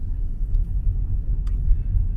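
A car drives along Amherst, a residential street with a 15 mph school-zone limit, giving a steady low engine and road rumble heard from inside the vehicle, with no talking.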